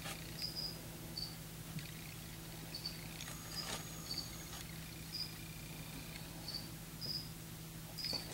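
Crickets chirp in short, regular pulses against a quiet background with a steady low hum, faint and somewhat distant.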